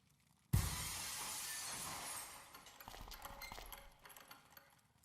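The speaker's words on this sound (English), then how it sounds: "let's cross our fingers that the seat cover absorbs the noise of the breaking glass" In the adventure game Dead Synchronicity, glass breaks under a seat cover: a sudden sharp shatter after a brief quiet, followed by a few seconds of tinkling, scattering fragments that fade out.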